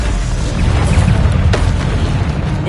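A Stupefy spell is cast in the video game Hogwarts Legacy, making a loud, deep booming impact with a sharp crack partway through over a dense rumbling game soundscape.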